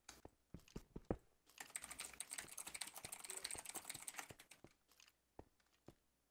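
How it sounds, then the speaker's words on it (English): Rapid clicking of a computer keyboard during a gaming session, a few isolated taps at first, then a dense burst of continuous typing, then sparse keystrokes again, close and fairly quiet. "What a keyboard sound"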